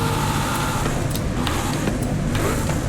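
A car engine runs in the racing game Forza Horizon 5, a continuous loud, steady drone with road noise, close and without any talk.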